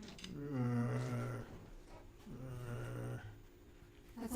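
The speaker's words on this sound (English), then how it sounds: "That's almost snoring." Two long, deep snoring drones with a short pause between them, rising and falling like slow breaths, moderately loud and nearby, with no talking.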